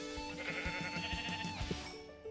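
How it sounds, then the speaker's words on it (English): Sheep bleating in a survival video game: several wavering, nasal bleats follow one another closely, loud and near, with no talk over them. "And there's some more sheep over here."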